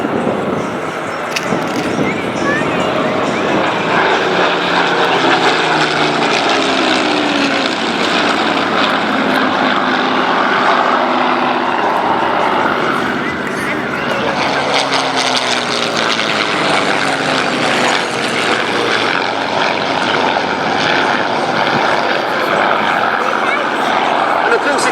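A Spitfire propeller fighter flies at an air show, its steady engine drone loud and continuous overhead for the whole stretch, with a commentator talking over it.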